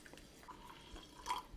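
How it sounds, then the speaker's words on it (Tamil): Water is poured into a cup, a faint, brief trickle with a few small splashes, heard close up in a quiet room. "இதில் வந்து நம்ம தண்ணியை ஊற்றிடலாம்"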